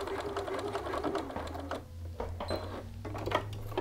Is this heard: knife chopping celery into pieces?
no